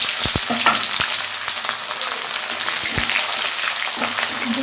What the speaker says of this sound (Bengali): আমি পেঁয়াজটা বেশি ভাজলাম না দেখো।